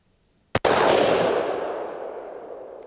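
A single sharp rifle shot fired from a tree saddle outdoors, a loud crack followed by a long rolling echo that fades away, with no talking.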